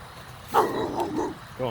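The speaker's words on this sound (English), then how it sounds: "here comes the dog to make some noise." A dog in a backyard gives a single short bark followed by a couple of softer yips, moderately distant, with a brief voice at the end.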